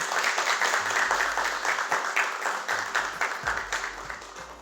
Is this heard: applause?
yes